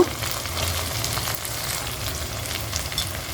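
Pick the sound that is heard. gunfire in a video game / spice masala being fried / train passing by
spice masala being fried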